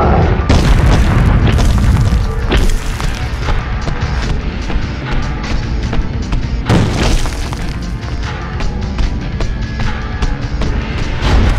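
Rocket explosions in the Hulk 2003 video game: loud, repeated booms with crashing debris, with a sharp blast near the start and another large one partway through, over continuous game noise.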